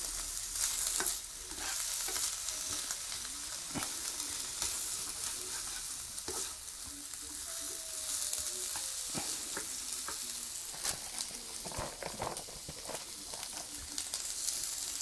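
Chinese-inspired stir fry mix, past its date, sizzles steadily in a hot pan for the whole stretch, with a dense crackling hiss broken by occasional scrapes and stirs; no one speaks.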